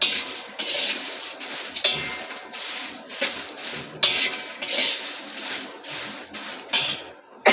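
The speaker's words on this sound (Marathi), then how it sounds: "मी थांबून मिरची भाजते." Dried red chillies being roasted in a pan for homemade Malvani masala, a steady scraping and rustling rasp with repeated stirring strokes, close and fairly loud, with no talk.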